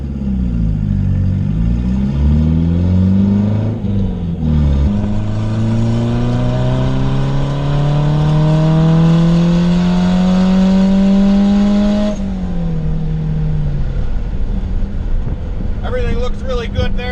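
A turbocharged Honda Prelude with an F20B engine revs hard through a tuning pull, its loud, close engine note climbing steadily in pitch for several seconds before it drops off, then settles back to idle with a faint turbo flutter near the end.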